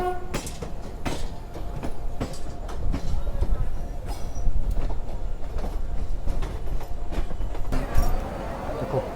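Inside a crowded general class coach of the Hemkunt Express, the train rumbles and rattles loudly at speed with rhythmic wheel clatter, while voices murmur faintly in the background.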